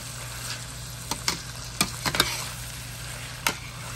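Potatoes cooking in a pan give a steady low sizzle, broken by a handful of sharp clicks and scrapes of stirring scattered through the quiet stretch.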